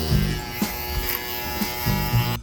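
A Joas JS-7010 electric shaver runs with a steady, close buzzing hum, its pitch and loudness shifting briefly a few times as it moves across the face.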